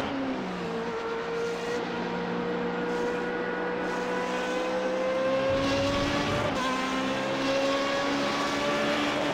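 A Formula 1 race car engine in the iRacing video game holds a high, steady whine, climbing gradually in pitch, loud and close, with a brief lower rasp midway and no voices.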